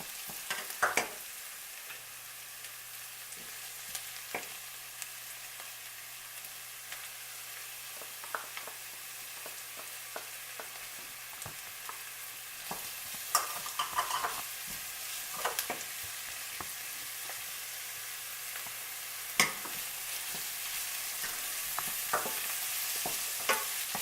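Vegetables with thyme and scallion sauté in a pan for a fish pie, giving a soft, continuous sizzle with frequent sharp scraping and clacking from stirring, close and moderately quiet, with no talking.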